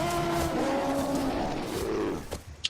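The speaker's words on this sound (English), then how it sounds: "Here they come, letting out horrifying bays." A tabletop game sound effect of hounds letting out horrifying bays during a Dungeons & Dragons session: a loud, continuous, growling roar of beasts fills the space, then breaks off into a few short, sharp sounds at the end.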